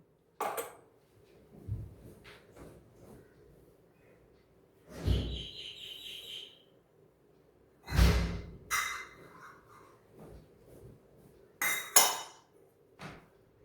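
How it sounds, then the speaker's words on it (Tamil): Ash gourd curd pachadi being stirred in a bowl, giving scattered clinks and scrapes of a spoon against the dish in short separate bursts, close and fairly quiet with pauses between. "இதை நல்லா நம்ம கலக்கிக்கணும்."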